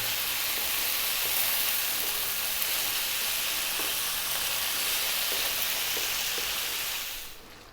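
Tomatoes sizzle steadily in a pan on fairly high heat for a vegan stuffed eggplant dish, a loud continuous frying hiss that fades away at the end.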